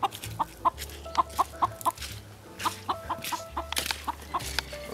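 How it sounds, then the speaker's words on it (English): Chickens cluck in a coop in a series of short, repeated clucks in loose bursts, close and clear over low background rumble and scattered knocks. "here's the chicken coop. And we're gonna get a chicken to come and help us survive in the wilderness."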